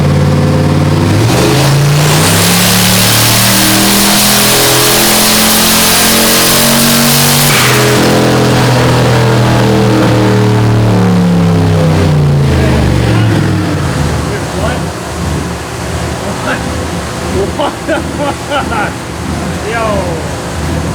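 A turbocharged Cadillac Escalade on a dyno at 9 PSI boost, its engine roaring loud and close as it sweeps upward through the revs, then winds down with rattles and voices around it.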